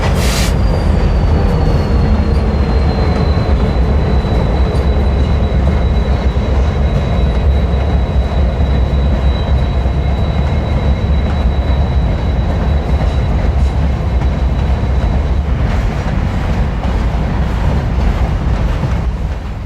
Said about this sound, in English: a BNSF empty from Amarillo, Texas is viewed as its ease toward Black Thunder Mine for loading